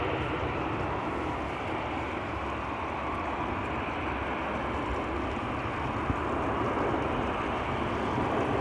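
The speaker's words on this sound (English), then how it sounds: "taking off from center is a 777-200 KLM flight 591 going to Johannesburg, South Africa" A 20-year-old KLM Boeing 777-200 taking off from Amsterdam Schiphol, a steady broad jet roar with wind buffeting, distant but constant, no voices.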